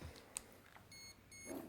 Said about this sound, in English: the double beep and the orange flash, is telling you that the battery needs changing